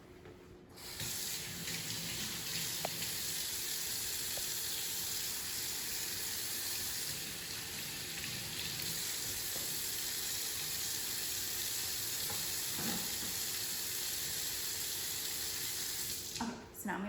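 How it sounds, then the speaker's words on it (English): Hands being washed at a sink under a steady, continuous stream of tap water running for about fifteen seconds, close and fairly loud, with faint handling clatter and no talking. "I'm gonna wash my hands."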